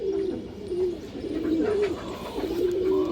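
Domestic pigeon cooing repeatedly, close, a series of low rolling coos over steady background room noise.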